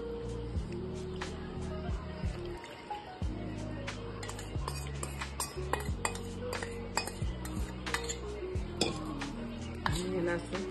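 A spoon stirs turmeric and oil into a karala chutney pickle in a metal dish, giving continuous clinking and scraping of utensil against pot, with brief chinks throughout and a faint background hum.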